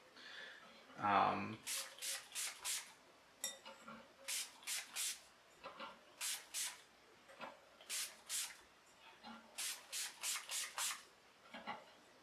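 Shimmery spray-on colour hisses from a nozzle in a fine mist, in short rhythmic bursts repeated many times, close and fairly loud, with a brief voice near the start.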